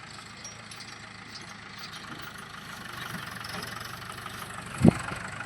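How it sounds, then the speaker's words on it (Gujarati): A tractor engine idles steadily after unloading on a farm, a low continuous rumble that builds slightly toward the end, with a brief sharp knock near the close. "જે ટ્રેક્ટર ખાલી કરીને આવે છે"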